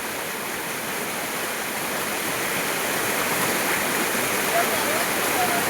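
Fast-flowing stream water in the Konkan countryside, where crabs are being caught with traps: a loud, steady rushing and gurgling that fills the whole stretch without pause.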